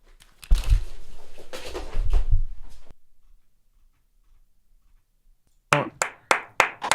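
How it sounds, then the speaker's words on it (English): A burst of scuffling noise is followed by a short silence, then five sharp hand claps in quick succession, close and crisp with brief gaps between them. "Stop clapping."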